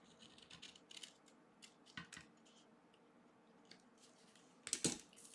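A blade snips through patterned craft paper along a scored line, giving a few soft, crisp cuts spread across a quiet room, with a sharper, louder snip near the end.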